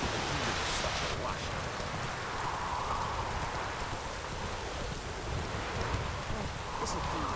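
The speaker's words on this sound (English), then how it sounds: "Let it rain." Steady rain pours in The Witcher 3: Wild Hunt on Nintendo Switch, a dense, continuous hiss of falling water with a faint distant rumble, holding at an even level throughout.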